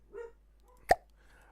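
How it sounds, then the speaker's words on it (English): A single short, sharp dog bark, close and moderately loud, preceded by a faint softer yelp, with quiet room tone around it and no talking. "stop your barking"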